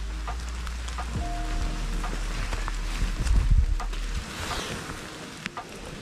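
Rain falls outdoors in nature with a steady, fairly quiet patter, mixed with low rumbling handling noise from a camera rig and a few scattered drips.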